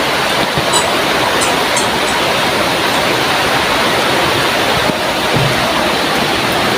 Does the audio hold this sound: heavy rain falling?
yes